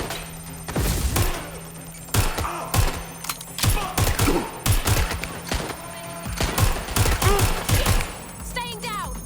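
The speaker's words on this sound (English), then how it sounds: "Suspect has opened fire." Gunfire in the video game Watch Dogs Legion, a burst of loud repeated shots and thuds in irregular volleys over several seconds, with a game voice speaking between them.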